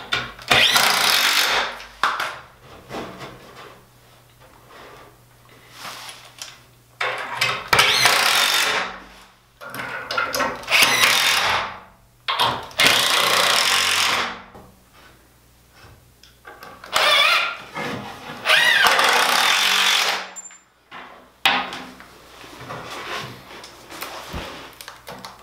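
A power drill drives screws into 1x3 wood shelf boards in repeated loud bursts of a few seconds each, separated by short pauses, close up with no talk.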